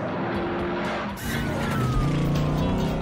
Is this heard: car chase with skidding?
yes